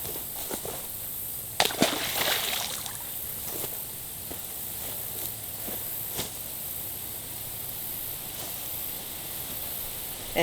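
A caught bass of about three pounds is released back into the water with a brief splash and sloshing, followed by quiet lapping water and hiss from outdoors.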